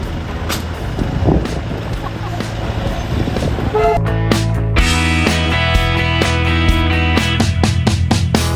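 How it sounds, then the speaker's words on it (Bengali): A loud, sustained toy train horn on the Darjeeling Himalayan Railway blares from about halfway through and holds steadily over rumbling traffic and crowd noise near Batasia Loop, Darjeeling. "ও হর্ন দিয়েছে আমি বুঝে গেছি"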